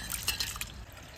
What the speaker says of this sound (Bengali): আমি চালটা দিয়ে নিই।